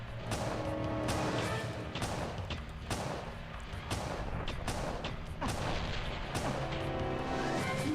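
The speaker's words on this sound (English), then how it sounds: "It's the slowest fucking grenade launcher I've ever seen." A grenade launcher in a Star Wars video game fires again and again, each shot a heavy, booming thump. The blasts overlap into a dense, continuous barrage of explosions.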